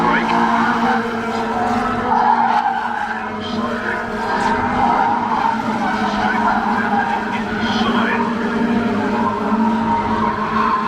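Race car tyres scrub and skid under heavy braking in a Honda Civic Type R at Brands Hatch, a sustained rough roar of engine and tyre noise with a commentator talking over it throughout.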